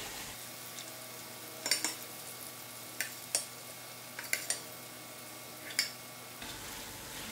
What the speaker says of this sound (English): I give it a good mix